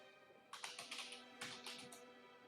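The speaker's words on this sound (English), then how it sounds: "So let's just type that all out." Quiet bursts of rapid clicks from fingers typing on a computer keyboard, a few short runs of keystrokes separated by brief pauses.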